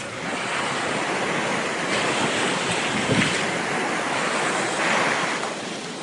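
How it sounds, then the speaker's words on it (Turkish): Sea waves breaking and rolling in at a surf spot in Istanbul, a broad continuous roar with surging swells and wind noise on the microphone, no voices present. "Oğlum dalga dalga buradan geliyor zaten ona doğru yüzüyor."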